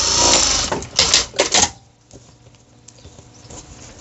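Sewing machine stitching elastic onto trouser fabric: a loud burst of rapid mechanical stitching for about a second and a half, then several short start-stop bursts before the motor falls quiet.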